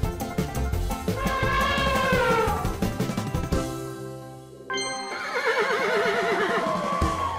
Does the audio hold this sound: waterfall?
no